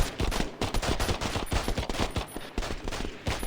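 Handgun fire in the video game EarthFall: a rapid, steady string of sharp loud shots with game noise underneath, no talk.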